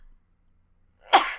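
One close, sharp sneeze bursts out after a moment of near silence, brief and loud.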